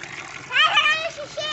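Children splashing and playing in an improvised backyard pool made from an upturned water-tank lid lined with a tarp on a rural farm, with bursts of splashing water and excited kids' voices close by.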